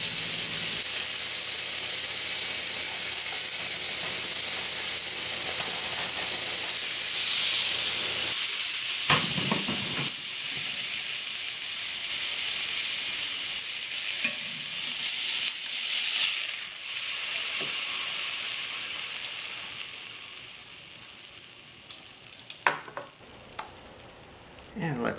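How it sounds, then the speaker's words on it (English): Steady loud sizzling and hissing of sirloin steak searing on a very hot cast iron platter, continuous throughout, easing slightly toward the end with a few sharp pops. "We place the steak onto the hot iron platter and serve it sizzling and smoking."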